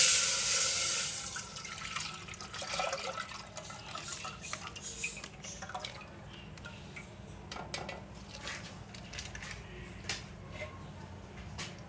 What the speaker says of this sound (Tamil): இப்போ அந்த பாத்திரத்துலையே 1/2 லிட்டர் பால், 1 லிட்டர் பால் ஊற்றிக்கலாம்.